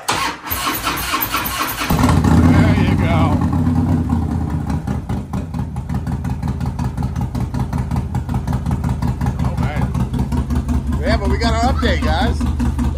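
A truck's auxiliary power unit fires up and settles into a steady, loud mid-pitched idle through a new quieter exhaust tube and new air box, with a voice briefly talking over it.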